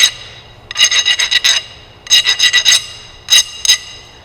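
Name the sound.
filing a MIG welder contact tip with a file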